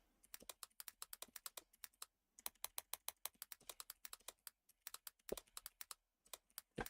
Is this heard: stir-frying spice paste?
no